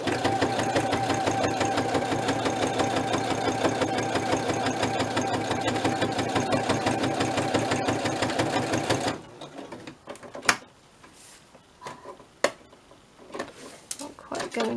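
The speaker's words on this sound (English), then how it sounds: "I just love my sewing machine." Sewing machine stitching fabric for a soft spine journal cover, a fast steady mechanical whir up close, stopping partway, followed by quiet handling noises and light talk.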